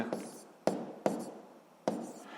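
Pen strokes on paper as a physics answer is written out, a few short scratchy marks separated by sharp taps, close and quiet with no voice.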